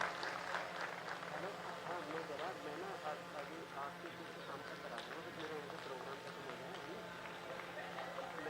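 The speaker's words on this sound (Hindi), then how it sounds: "इसके लिए एक बार जोरदार तालियां।" Faint applause from an audience at a Lucknow event, a steady patter of many hands clapping continuously at a distance with murmuring voices mixed underneath.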